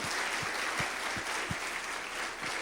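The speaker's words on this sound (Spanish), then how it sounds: "Dale un aplauso más fuerte al Señor" Loud, steady applause fills a church congregation's worship service, a dense, continuous wash of clapping that runs throughout, with a few soft, regular low thumps beneath it.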